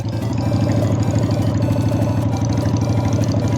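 Motorcycle engine held at high revs by a sticking throttle, a loud, steady, rapid pulsing drone with no change in pitch for the whole stretch.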